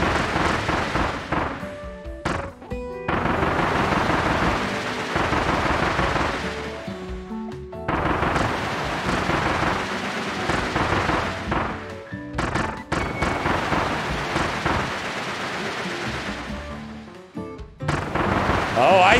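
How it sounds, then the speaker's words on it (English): Lightning bolt and tornado attack in Kirby and the Forgotten Land: loud, dense crackling blasts and rumbling wind bursts in long sustained waves broken by short gaps, with game effects layered throughout. "the lightning bolt forces them into the tornado"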